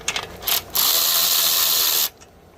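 A power tool whirs briefly and then runs steadily for over a second as it loosens a bolt on the chain area of a 1992 Suzuki Katana 750F motorcycle. The sound is loud and close.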